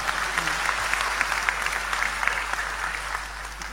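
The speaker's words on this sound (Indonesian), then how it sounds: "Tepuk tangan untuk beliau" A crowd applauds steadily, a dense patter of many hands clapping at moderate level with no pauses and no talk over it.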